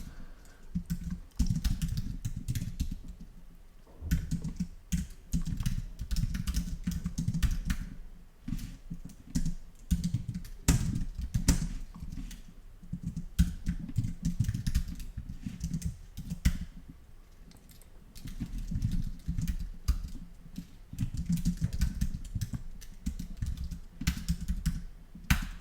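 Steady, close computer keyboard typing while entering SwiftUI code for a graphics editor app, with dense bursts of key clicks and brief pauses over about twenty-five seconds, no talking.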